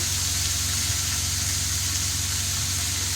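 Onions frying in a pan until brown for a curry, a steady close broadband sizzle and hiss holding evenly throughout with no talking.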